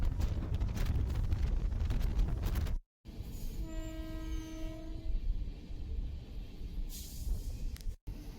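An Amrit Bharat Express passenger train runs through a right-hand curve between Rayagada and Vizianagaram, its wheels rumbling on the rails and its horn sounding a sustained tone midway, with wind buffeting the microphone and two brief dropouts.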